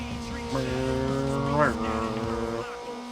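A voice imitates a racing car engine while playing a Need for Speed racing video game, humming rising and falling revs with a sharp swell midway, steady and close.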